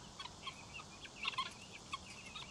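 Guinea fowl and a turkey calling in a yard: faint, scattered clucks and short calls at a distance, irregular and quiet, with no talking.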